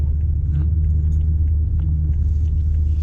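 Steady, loud low engine rumble from a Peugeot 406 coupé Pininfarina while driving, a continuous drone with road noise and no talking over it.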